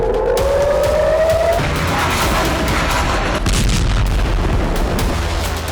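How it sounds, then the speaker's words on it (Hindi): A missile intercepted in the sky by the David's Sling air defense system produces a sustained, loud roaring rumble with a rising whine at the start, and no voices. "डेविड स्लिंग डिफेंस सिस्टम से कदर 1 मिसाइल को मार गिराया।"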